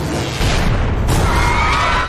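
A television bursting like fireworks as a film sound effect in a comedy scene: a loud, dense crackling blast sustained across the whole moment, with a sharp burst partway through and a shrill whistling tone rising near the end.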